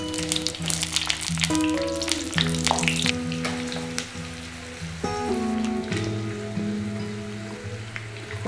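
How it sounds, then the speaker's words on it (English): Boiled potatoes frying in mustard oil for Kashmiri dum aloo give a steady, close crackling sizzle that runs throughout, under continuous background music. "frying the boiled potatoes in mustard oil until they're"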